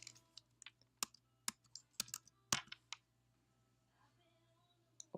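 Quick bursts of typing on a computer keyboard entering a CPT code in medical software, close and quiet, with irregular clustered keystrokes and brief pauses, ending in a couple of isolated clicks.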